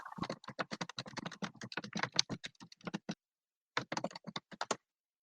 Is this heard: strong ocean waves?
no